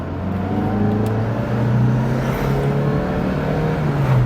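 A 1992 Fiat Tipo 1.4S engine revs and accelerates, its rising engine note climbing steadily through the gears in a loud, close, continuous pull with no speech.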